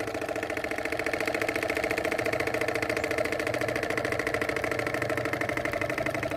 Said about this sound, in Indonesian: Kita panasin mesin dulu